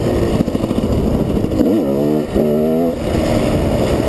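A GasGas motorcycle ridden on muddy ground, its engine droning steadily and rising and falling in pitch twice mid-clip as the throttle is worked, loud and close throughout with no talk.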